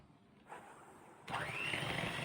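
Egg whites being beaten with sugar and lemon juice, a faint whirring hum that jumps to a louder, steady buzzing drone partway through, with no talking.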